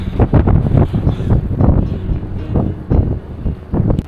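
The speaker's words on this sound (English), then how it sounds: "it's bloody breezy. I've just lost my hat" Strong coastal wind buffeting the microphone on a hike along the Great Ocean Walk in Victoria, Australia, a loud, continuous roaring rumble with gusty surges throughout.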